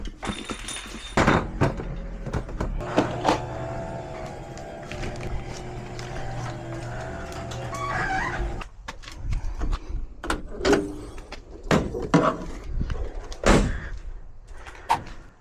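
A loud, clunky garage-style door with weak hinges and worn rollers rattles and rumbles as it is opened and closed, with heavy thuds and bangs at the end of travel, close by and with no talking.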